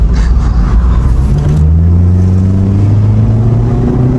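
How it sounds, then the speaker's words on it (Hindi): A loud, close Toyota Indus engine, swapped to 1700cc and Stage-1 tuned, revs and climbs steadily in pitch, a deep throaty rumble building without pause. "अभी शेख साहब आपको आवाजें पूरी सुनाएंगे गाड़ी की।"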